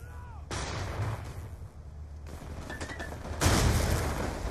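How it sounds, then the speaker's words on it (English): Gunfire from players in a shooting video game, bursts of loud, broadband shots cutting in and out, with a heavy blast near the end, close and dense. "they're sitting here shooting at us"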